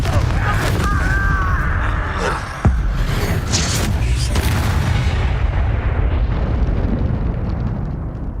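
A Confringo blasting spell erupts in Hogwarts Legacy with a loud, booming explosion, followed by a long rumbling decay and debris that fades slowly over several seconds.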